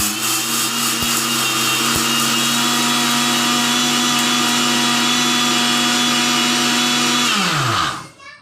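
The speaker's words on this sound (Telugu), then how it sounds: "గ్రైండర్ వేసుకోవాలి ఇప్పుడు." A kitchen mixer grinder runs at full power while batter is ground for ariselu, a loud, close, steady motor whine with grinding texture that holds for several seconds, then winds down as it is switched off.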